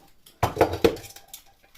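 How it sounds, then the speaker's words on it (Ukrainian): A small metal pot clatters and clinks a few times as it is picked up and set down, close by in a quiet room. "Для початку беремо каструльку, ось таку невеличку."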